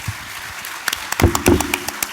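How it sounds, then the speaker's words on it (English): Conference audience at a CA students' national conference gives scattered, uneven applause for two guest speakers: a handful of separate claps building into a short, moderately loud burst, with no talking. "A huge round of applause"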